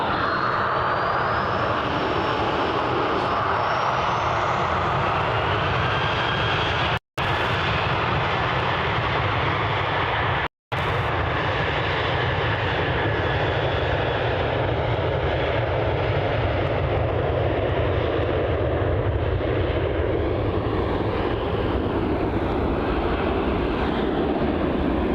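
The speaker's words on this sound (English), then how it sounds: "Qantas 414 has been cleared for takeoff, departing off runway 34 here" A Qantas jet airliner takes off from runway 34, a steady, broad engine roar heard from a distance that holds for the whole stretch, with two brief dropouts.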